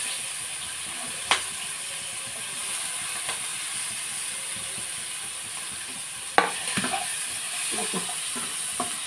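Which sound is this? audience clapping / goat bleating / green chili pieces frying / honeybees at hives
green chili pieces frying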